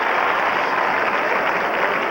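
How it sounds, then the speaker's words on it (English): A large arena audience at the 1988 Calgary Winter Olympics men's figure skating applauds in a dense, continuous roar of clapping that stays loud and even throughout, with no talk over it. "Now watch the applause."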